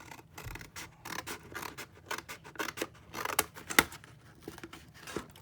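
Scissors snip through the cardboard of a Kleenex box to cut out a printed image, a rapid series of close, crisp cutting and scraping crunches with light crinkling.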